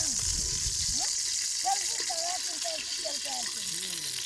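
Oil heats in a pan for coriander chicken, giving a short burst of loud sizzling at the start, then a softer, steady hiss. Birds chirp briefly in the background.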